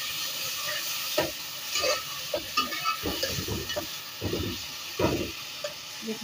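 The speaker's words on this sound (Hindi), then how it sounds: "अब यहाँ पे मैंने डालनी है हल्दी पेस्ट, ये डाल के भूना" Turmeric paste frying with bitter gourd in a pan, a steady sizzle broken by irregular scraping stirs of a spoon against the pan, close and fairly quiet, with no voices.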